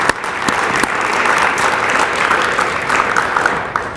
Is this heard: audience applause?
yes